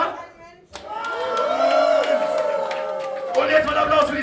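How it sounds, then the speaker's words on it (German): A concert crowd at a club gig claps, whoops and cheers for a few seconds, with sustained shouting voices and scattered applause filling the room. "Und jetzt mal Applaus für die Koblenzer"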